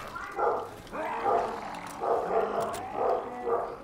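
Puppy barking indoors in four or five evenly spaced, moderately loud yappy bursts, with faint background noise between them.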